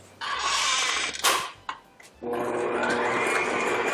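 A stand mixer kneads walnut whole wheat bread dough made with a poolish, its motor a loud, steady close whir that cuts out briefly with a clunk before starting up again.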